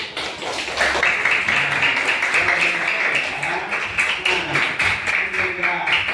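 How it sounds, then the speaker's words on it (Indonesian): Students clapping in a classroom during an Islamic religious education lesson, a fast, sharp, fairly loud patter of hand claps lasting several seconds, with voices mixed in. "Kasih aplaus dulu buat kita semua. Tepuk tangan."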